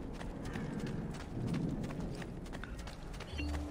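Horse hooves clop in Assassin's Creed II, a moderately quiet, fairly steady patter of steps close by with a low ambient hum and a faint tone near the end.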